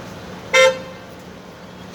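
A single short car horn toot rings out once, loud and fairly close, lasting a fraction of a second over a low steady background hum.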